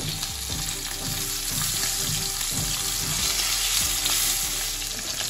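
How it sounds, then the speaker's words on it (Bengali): Hilsa fish sizzle steadily in hot mustard oil in a pan, a continuous crackling fry with occasional clinks of a spatula turning the pieces. "এবার আমি এক এক করে মাছগুলো সব ভেজে নেব"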